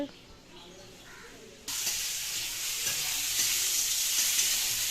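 Curry cooking in a home kitchen pan, quiet at first, then a sudden loud, steady sizzle and hiss that keeps building, with faint background voices in places.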